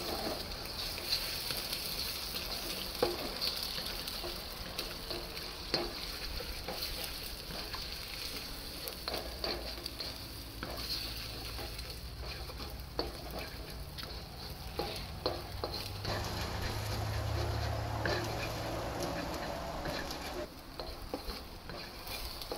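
Two eggs fry and sizzle in a pan while pineapple fried rice is cooked on Koh Samui, Thailand, a steady close crackle broken by scraping stirs and occasional utensil clicks.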